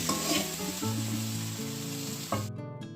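Flat beans finish frying in a pan with a steady, close sizzling hiss. Melodic background music plays over it, and the sizzle cuts off just before the end.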